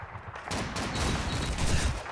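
Gunfire in the Call of Duty 2 video game as a shot strikes a tree, heard as dense, loud broadband bursts that hold steady through the short clip with no talking.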